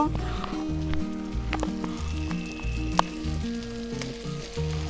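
Young jackfruit pieces sizzle as they go into a hot frying pan, with steady frying crackle and periodic louder clattering bursts throughout, close and fairly loud.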